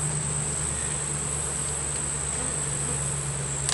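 Honeybees drone steadily in a dense, continuous hum throughout a beehive inspection, close and even in loudness with no voices.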